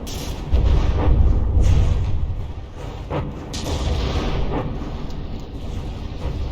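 Battleship shells fire in the From the Depths naval game, heard as deep, rumbling booms and heavy low blasts that roll on continuously, with a few sharper cracks standing out.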